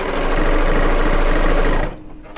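A three-thread serger overlocks quilt fabric with a loud, fast, even mechanical hum that runs steadily and then stops abruptly near the end.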